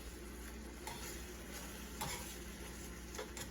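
Chicken fries in a pan on an electric stove, a faint, steady sizzle with a few light clicks as the pieces are turned. No voices.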